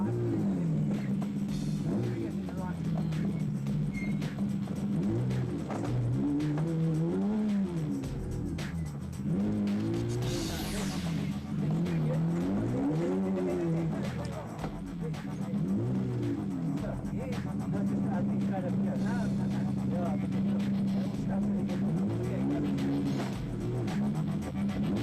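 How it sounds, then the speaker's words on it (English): A Century Racing CR2 off-road race car in the Magalies 400 rally works slowly along a tricky section, its engine rising and falling in repeated revving swells. The engine drone stays loud and continuous, with heavy mechanical noise. "Gingerly feeling their way along a tricky section of route were Mark Corbett and Rudy Balzar"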